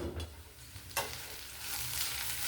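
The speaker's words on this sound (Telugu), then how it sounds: "ఒక 5 మినిట్స్ వేగాలండి." Ivy gourd fries in a pan with a soft continuous sizzle and a couple of brief stirring scrapes, heard close and alone without talk.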